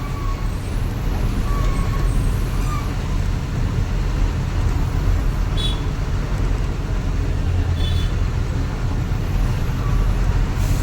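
Heavy traffic on a main road in Chennai near the seashore: a loud, continuous roar of buses, cars and trucks, with brief horn-like tones and hissing air brakes, and no talk.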